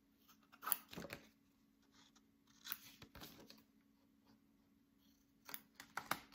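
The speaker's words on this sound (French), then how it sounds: "On vient donc couper en biais." Scissors cut paper on the bias for a steampunk pocket-watch scrapbook album, making several quiet, close snips in short bursts with near-silence between them.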